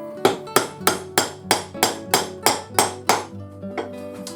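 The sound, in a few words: hammer knocking a wooden dowel through a metal sizing plate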